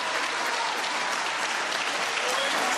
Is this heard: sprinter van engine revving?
no